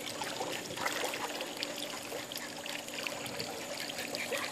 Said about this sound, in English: I'm wetting him with the chlorine water